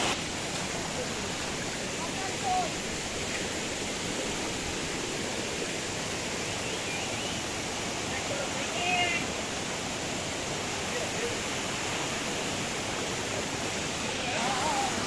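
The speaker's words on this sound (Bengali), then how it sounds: "দেখেন এই পানি কি পরিমাণ, জিরির পানি, এটাকে বলা হয় বান্দরবন ঠান্ডা জিরি।" A cold mountain stream in Bandarban swollen after heavy rain, a steady broadband rush of flowing water close by, continuous and even throughout.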